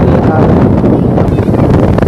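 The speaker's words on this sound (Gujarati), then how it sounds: "ફૂલ પવન છે ત્યારે મોજા જોઈએ ને" Strong wind at the Porbandar Chowpatty seashore at sunset roars across the microphone in loud, continuous buffeting gusts, with no clear voices.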